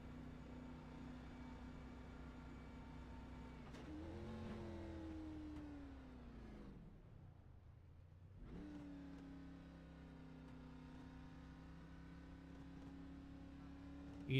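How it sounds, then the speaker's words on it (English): The 31 race car idles and revs on pit road, its engine held at steady high RPM with a brief dip and drop-off midway before it settles back to a droning, fairly distant rumble. "You can hear him keeping the RPMs up"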